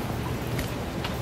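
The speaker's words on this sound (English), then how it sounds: "and it's still raining" Steady rain falling outdoors in Halifax, a dense, even hiss of drops filling the air throughout with no pauses or voices.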